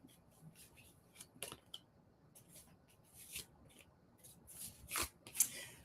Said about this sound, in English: This is Deb's cards